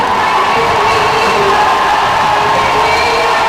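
A loud, steady roar of a cheering crowd fills an arena at an NC State women's basketball game against Clemson, dense and continuous with shouts and whoops throughout.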